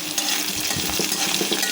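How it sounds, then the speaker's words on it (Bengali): Onion, green chili and shrimp frying in hot oil in a pan, a steady close sizzle broken by the scrape and clink of stirring. "পেঁয়াজ আর কাঁচামরিচ দিয়ে ভালোভাবে ভেজে নিচ্ছি।"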